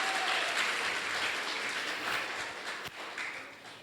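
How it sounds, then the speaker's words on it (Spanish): A church congregation gives a hearty round of applause during a sermon, a close, full burst of clapping that slowly thins out toward the end. "Dese un aplauso, hermano, porque aquí hay puras valientes."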